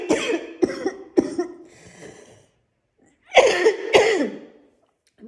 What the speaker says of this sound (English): I'm coughing, but I don't have COVID.